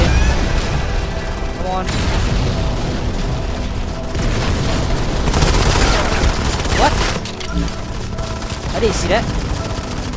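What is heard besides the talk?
gunfire in the video game Modern Combat 5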